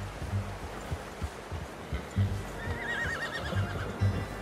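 A horse in the video game Red Dead Redemption 2 whinnies over steady clip-clopping hooves and low rumbling ambience, with a short wavering neigh rising partway through.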